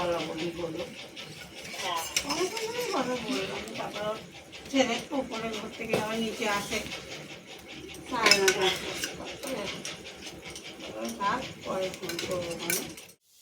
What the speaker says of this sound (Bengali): আলুটা দিয়ে কষে নেবো।